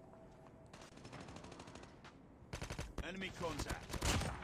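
Tap-fired bursts from a Damascus-camo AK117 in Call of Duty Mobile, a run of quick rhythmic shots that grows louder and denser toward the end, with a brief spoken callout over the firing.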